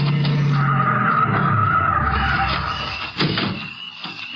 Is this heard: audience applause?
no